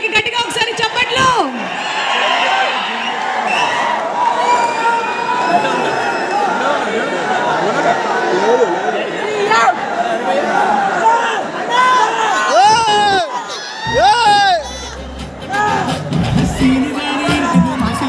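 A crowd at a film success event for Mad cheers, whoops and claps in a loud, dense, continuous roar, with yells and shouts rising through it and voices mixed in.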